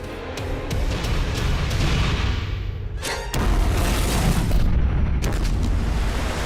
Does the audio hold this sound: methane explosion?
yes